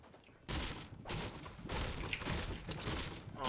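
Gunfire in the Fortnite Battle Royale video game, with a sniper rifle involved, comes as loud sustained bursts of shots close by for most of the few seconds.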